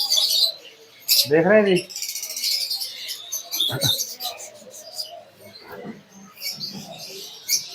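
Cockatiel pairs, a white-face female and a grey male among breeder pairs, give repeated sharp chirps and squawks close by, mixed with other cage birds, while someone talks over them.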